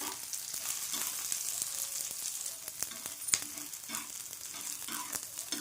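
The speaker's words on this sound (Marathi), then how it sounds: "त्यासाठी मग एक एक ते दोन चमचे धने आहे शेंगदाणे तीळ खोबरे लाल मिरची छान मसाले भाजून घेणार आहोत" Coriander seeds, peanuts, sesame, coconut, red chilies and garlic cloves dry-roast in a pan with a soft, continuous crackle and sizzle, punctuated by light scraping and tapping from stirring.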